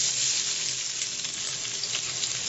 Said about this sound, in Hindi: आलू को थोड़ा फ्राई करेंगे।